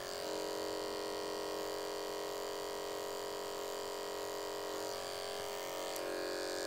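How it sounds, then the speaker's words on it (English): An electric hair clipper fitted with a 1/16 inch blade runs steadily at close range, a constant even buzz with a faint high click near the end and no talking. "Make sure the clipper's on when you close the blade."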